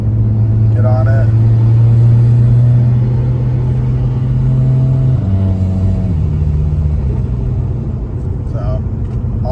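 A car fitted with a swapped DSG transmission accelerates from inside the cabin. Its engine hum climbs steadily, then steps down at a gear change, with a low rumble throughout.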